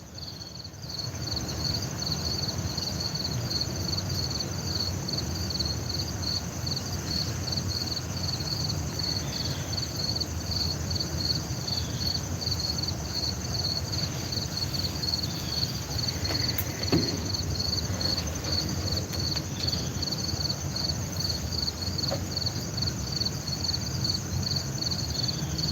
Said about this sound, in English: Yes, Helix, I have a lot of crickets around me